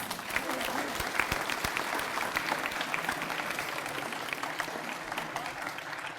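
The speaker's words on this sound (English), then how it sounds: "I ask that you please give them all a warm round of applause." Warm, dense applause fills a school's Year 12 final assembly in honour of the teachers, a steady wash of many hands clapping close and loud with no talking over it.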